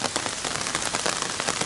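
Steady rain falls on a surface, a dense even hiss of drops that holds for the whole short stretch, with no voices over it.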